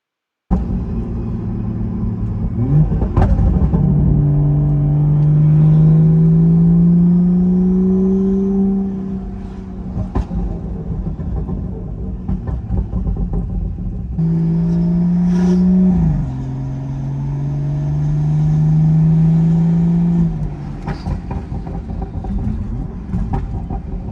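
BMW 440 with a B58 engine fitted with a big turbo revs hard twice, each climb rising to a sustained high pitch before dropping back, loud and close with no talk over it.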